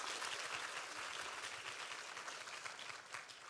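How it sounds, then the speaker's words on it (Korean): Steady applause from a large audience at a Korean traditional music and dance performance, dense and continuous throughout, with no voices standing out. "저한테도 박수 한번 주십시오."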